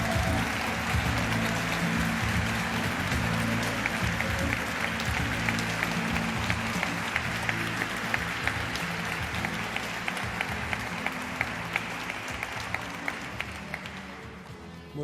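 A theater audience breaks into sustained applause to welcome Claudio Naranjo at a conference. The clapping is dense and steady, then begins to thin and fade toward the end.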